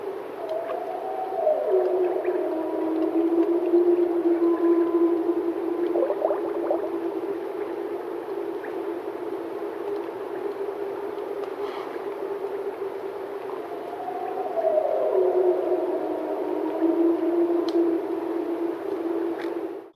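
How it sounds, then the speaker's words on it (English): A wolf howls at an isolated lake in a field recording, two long sustained howls that rise and fall with a hollow tone, fairly clear over quiet background hiss. "And that's when a wolf started howling."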